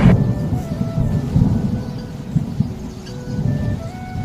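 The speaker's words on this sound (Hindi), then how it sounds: "आसमान में काले बादल छा गए और मूसलाधार बारिश शुरू हो गई" Thunderstorm with heavy rain during a train journey: a continuous, loud low rumble of thunder and dense rain roars steadily throughout, with no voices.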